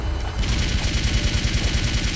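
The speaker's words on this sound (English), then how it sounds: "Opening up on him with the Vulcan cannon is probably your best bet" A Vulcan cannon in the video game Blood II: The Chosen fires in a rapid, loud, continuous stream of shots, a dense mechanical rattle that starts abruptly and keeps going.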